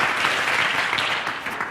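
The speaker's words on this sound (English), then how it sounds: "Just give him a round of applause as he comes on here." Audience applause greeting a guest coming onstage, a steady dense wash of many hands clapping, fairly loud and continuous with no pauses.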